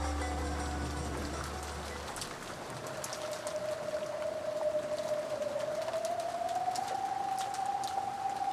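Pouring rain in the Umineko: When They Cry visual novel hisses steadily, loud and close, with a thin sustained musical tone running underneath.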